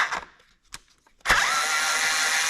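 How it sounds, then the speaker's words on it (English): A couple of short clicks and knocks, then a small power drill whirs up suddenly and runs at a steady, high-pitched buzz close by, breaking off a part while fitting an engine case guard on a Honda Gold Wing motorcycle. "I'm just gonna use my little power drill to just break it a little bit"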